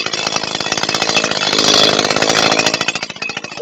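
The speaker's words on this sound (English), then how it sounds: "We got a lot done with a civilian chainsaw" A civilian chainsaw cuts wood in a backyard. The engine roars loud and close, continuous with slight surges, and no voices are heard over it.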